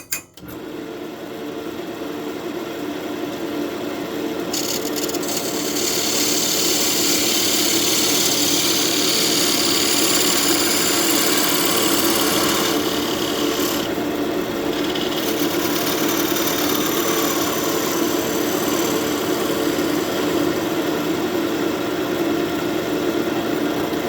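An oak newel post cap for an antique staircase is turned on a wood lathe with a freshly honed tool: a steady, loud whirring drone with a continuous cutting hiss that runs unbroken throughout.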